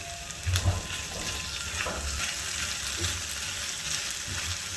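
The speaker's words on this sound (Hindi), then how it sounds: "2 टेबलस्पून क्रीम के शामिल करके इसको अच्छे से मिक्स कर लेंगे" Haryali chicken tikka sizzles and spatters in a kadai as cream is stirred in, with a continuous close frying crackle and a few soft scraping stir strokes.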